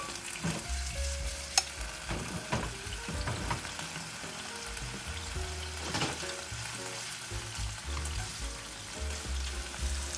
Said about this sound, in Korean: 닭가슴살이 노릇노릇해질 정도로 잘 구워줍니다.